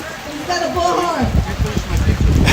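Heavy rain pours outdoors at a street protest in Olympia, Washington, a dense steady hiss that swells loudly after the first second, with a person talking over it at the start.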